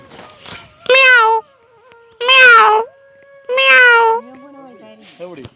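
A person imitates a cat, producing three drawn-out, close, loud meows spaced evenly apart, with soft murmured sounds between them.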